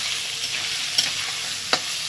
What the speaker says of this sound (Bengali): এবার এই ডালটাকেও আলুর সাথে খুব ভালো করে ভেজে নিতে হবে।